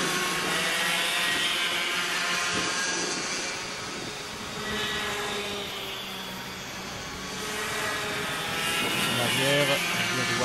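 A racing powerboat roars past during a qualifying race at Varennes-sur-Allier, its loud, steady engine drone swelling and easing as it goes by, with a commentator talking over it.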